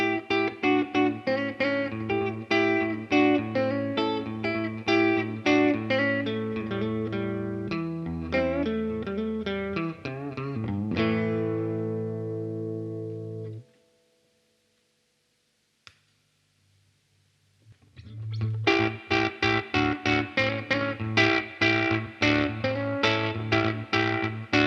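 A clean electric guitar runs through a boost pedal into a cheap Italian solid-state amplifier and a Surfy Bear Metal spring reverb. Ringing, reverberant chords and picked phrases play up close, break for a few seconds of near silence, then resume.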